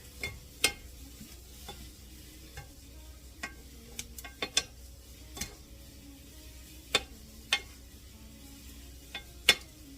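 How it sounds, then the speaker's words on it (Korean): Meat cooking with sugar is stir-fried in a pan, with scattered light taps and scrapes of a utensil at an uneven rhythm, quiet and close with no one speaking. "맛있게 볶아졌네요."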